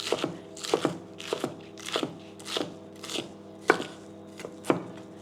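Spring onion being chopped finely with a knife on a board for Thai pad kra pao, a series of about a dozen crisp, close chops in an uneven rhythm, with short gaps between bursts.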